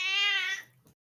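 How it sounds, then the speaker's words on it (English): A cat gives a single clear, close meow lasting about half a second, followed by a faint soft sound and then silence. "My cat keeps coming over."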